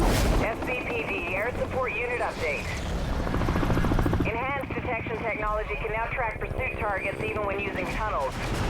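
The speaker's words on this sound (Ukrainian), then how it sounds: "Другий рівень гелікоптер." A police helicopter in the racing game Need for Speed: Hot Pursuit (2010) keeps up a steady rotor roar throughout. Wavering siren-like tones are layered over it, and someone talks over the mix.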